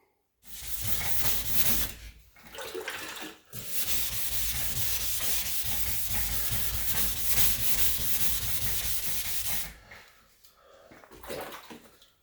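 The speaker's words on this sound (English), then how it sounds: "I'm still sanding." Steady, continuous abrasive rubbing of hand sanding paint on a 1966 Mustang body panel, running loud for several seconds with brief pauses between strokes.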